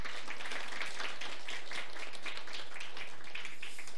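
A church congregation gives a missionary back from Mongolia a round of encouraging applause. Many hands clap in a steady, dense wash that holds at an even level throughout, with no voice over it.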